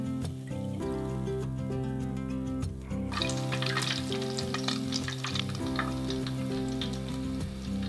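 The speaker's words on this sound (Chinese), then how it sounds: "油烧到160度下去，炸两三分钟" A breaded, panko-coated cheese hot dog deep-fries in oil at 160°C, giving a dense, bubbling roar that jumps louder and crisper after a brief pause and then keeps up a steady, close crackle.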